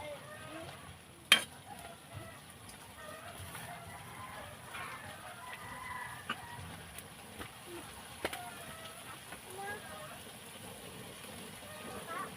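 Pork menudo frying and being stirred in a pan, with a quiet, steady sizzle and a few sharp utensil clicks against the cookware.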